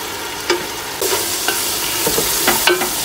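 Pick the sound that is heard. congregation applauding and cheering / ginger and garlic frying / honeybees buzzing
ginger and garlic frying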